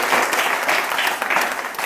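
Loud, sustained audience applause fills the whole stretch at a commemorative gathering in Bidar district, dense clapping from a crowd with no voices over it.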